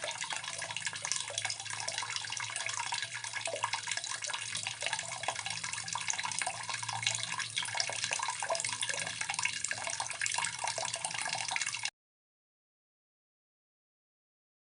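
Acetic acid pours in a steady, continuous liquid stream over material for gold recovery with salt and vinegar. The trickle stays faint and even for about twelve seconds, then stops abruptly into silence.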